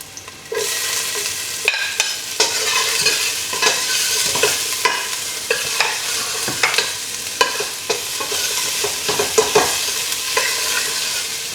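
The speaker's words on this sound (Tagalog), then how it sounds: "Igisa na natin ang ating bawang." Garlic and ginger sauté in a hot pan with a loud, continuous sizzle punctuated by repeated utensil clinks and stirring scrapes, close up and without voices.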